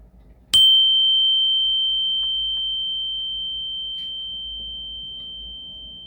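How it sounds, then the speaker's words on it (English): A small bell is struck once, ringing out with a clear, bright tone that decays slowly over several seconds in near silence. "So I'm going to ring the little bell."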